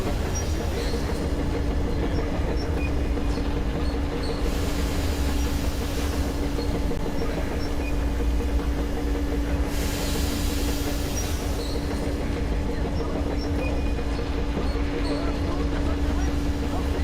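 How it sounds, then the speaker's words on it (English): A railway turntable switching on in the Metro Exodus video game gives a steady mechanical rumble with a constant hum and rail clatter, plus brief louder bursts of grinding noise partway through, all continuous and fairly loud. "Attention! The turntable is switching on."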